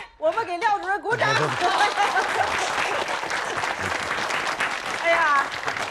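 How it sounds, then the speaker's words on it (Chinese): A room of colleagues bursts into applause to welcome Director Liao, with loud, sustained clapping mixed with chuckles and chatter after a brief voice at the start. "来，我们给廖主任鼓掌。"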